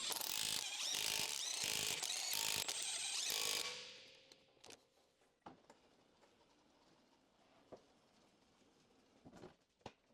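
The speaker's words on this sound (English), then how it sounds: "Use a 19 mm deep socket with a torque wrench. Torque the front wheel hub bolts to 150 Newton meters" Front wheel hub bolts on a 2015 Ford Escape being tightened with a torque wrench and 19 mm deep socket: a fast, loud ratcheting clatter for several seconds, then near quiet with a few faint clicks.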